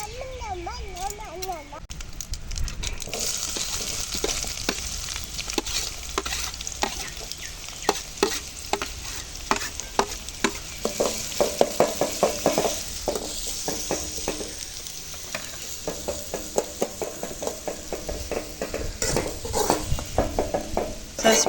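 Mustard seeds pop and crackle in hot oil in a pan for a goat liver fry, a dense run of sharp close clicks and spatters over a steady sizzle, with spoon scrapes against the pan and a voice speaking at the start.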